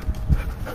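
A dog panting in short, quick breaths as it runs up close, with a couple of soft bursts of breath and movement and no talking.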